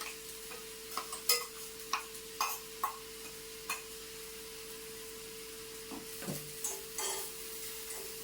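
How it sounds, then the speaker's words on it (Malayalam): Leaf thoran with grated coconut, salt, chilli, turmeric and garlic being stirred in a pan, a series of light spoon scrapes and taps at an uneven rhythm over a steady hum and faint sizzle, close and without talking. "ഇനി നമ്മളങ്ങ് ഇളക്കി കൊടുത്താൽ മതി"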